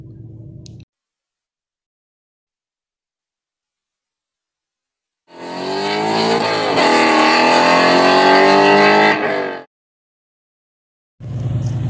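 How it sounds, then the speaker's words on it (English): A 1969 Chevrolet C10 pickup with a 350 V8 and three-speed column shift runs for about four seconds, a loud, close engine drone whose pitch dips and rises, between stretches of silence. "It's a 350 V8 with a 3 on the tree."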